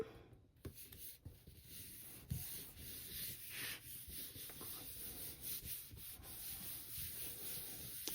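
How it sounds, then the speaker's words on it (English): Soft, continuous scraping and rubbing as paper is burnished down onto a memory album page, faint and close, with a few light taps and no talking. "And we will just really burnish this."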